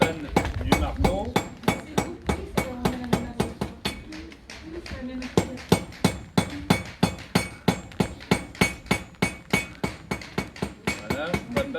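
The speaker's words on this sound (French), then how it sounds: "On le pose sur l'enclume et on le frappe." A blacksmith's hammer strikes hot metal on an anvil while forging a chain link at a traditional crafts fair, ringing in a steady, rapid rhythm of sharp metallic blows with a brief pause midway.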